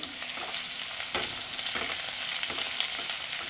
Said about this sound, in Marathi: आता हे सगळं 1 मिनिटभर आपण छान परतून घेऊया, मिरचीचा लसणाचा पूर्ण कच्चापणा जाऊपर्यंत।